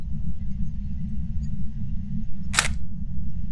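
A single sharp camera-shutter click as a selfie is taken in the ghost-hunting game Phasmophobia, heard over a constant low rumble.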